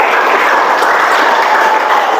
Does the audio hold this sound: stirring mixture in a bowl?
no